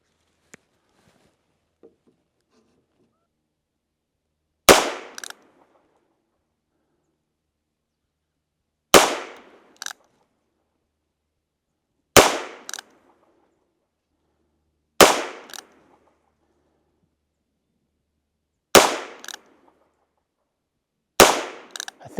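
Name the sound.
gunshots at a shooting range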